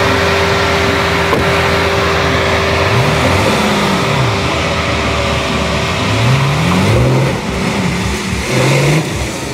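Lamborghini sports car accelerating and revving in a sand pit, loud close engine with repeated rising and falling rev sweeps over constant rumble.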